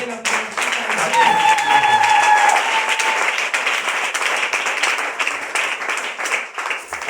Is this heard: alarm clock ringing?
no